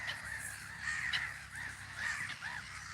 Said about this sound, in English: All these birds, and we have nothing to feed them with.